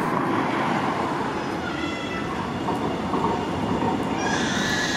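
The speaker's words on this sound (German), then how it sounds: "Die NGT 6 DD sind die kürzere Variante dieser Designausführung von Straßenbahnfahrzeugen." A Dresden NGT 6 DD low-floor tram rolls steadily along the rails with a continuous loud rumble. High wheel squeals rise toward the end, and no one speaks.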